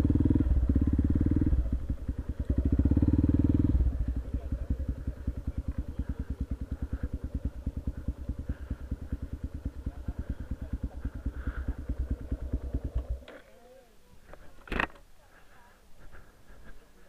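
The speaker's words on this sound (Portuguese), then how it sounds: "vou encostar a moto aqui" A motorcycle engine runs close by while being parked on a mountain road, loud at first, then settling into a steady, rapid idle putter before cutting out, followed by a brief clatter and quiet.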